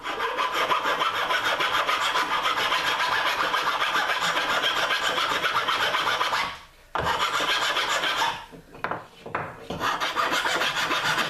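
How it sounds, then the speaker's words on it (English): A hand rasp files down a cedar plank canoe seat in steady, close, rhythmic strokes of loud wood scraping, with a brief pause partway through and two short breaks near the end. "I'm going to use my rasp"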